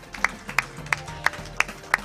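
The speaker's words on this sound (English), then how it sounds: "Let's give a clap." Clapping at a county learning event in Garissa, Kenya, heard as six slow, evenly spaced single claps, sharp and fairly close, with little else around them.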